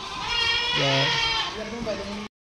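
Goats bleat at a goat market during a sale of 21 goats, with one loud, close, wavering bleat in the middle and a shorter one after, mixed with voices talking nearby.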